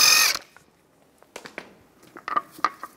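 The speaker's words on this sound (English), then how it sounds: "Use a 17 millimeter socket. Take the lug nuts off." Wheel lug nuts removed from a 2007-2013 Mini Cooper with a 17 mm socket: a brief loud tool burst, then scattered metallic clicks and taps up close.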